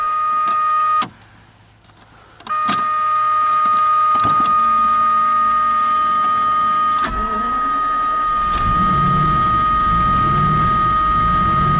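A 1990 Jaguar XJS V12 idles with a surging note close by, its pitch swelling and dropping, cut by clicks and a short quiet gap before the engine runs on and then winds down at shutdown.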